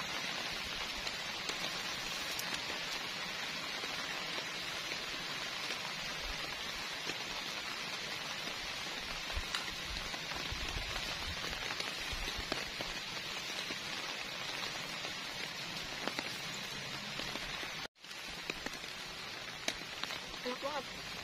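Rain falls steadily through the night at a solo mountain campsite during a storm, a soft, even patter that runs without a break for the whole stretch, broken only by a single brief knock near the end.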